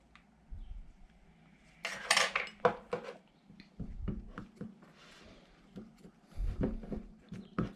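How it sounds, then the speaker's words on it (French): Homemade slime from a cheap Action store kit is stirred in a bowl, with a utensil scraping and clinking against the sides in irregular bursts, close and fairly quiet. "Allez, je vais mélanger pendant 2 minutes."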